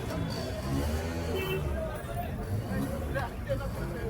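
Crowd hubbub at a busy railway station during a trip on the Konkan Kanya Express, a steady murmur of many distant voices with vehicle and platform noise, continuous and moderately loud.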